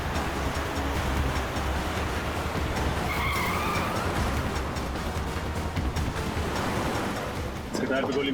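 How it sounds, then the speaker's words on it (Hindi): A car driven recklessly with tyres skidding and the engine roaring, a loud sustained screech and rush of motion that holds for several seconds before easing near the end. "इस तरह से गाड़ी चला रहा है, कहीं किसी को नुकसान ना पहुंचा दे।"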